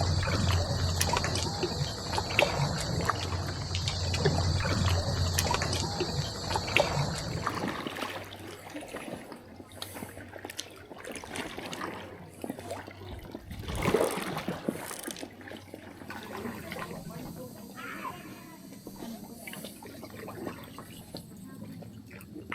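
Kayak paddling on a sheltered lagoon in Phuket, with irregular paddle strokes, water trickling and dripping off the blade, and occasional splashes, close by over steady background ambience.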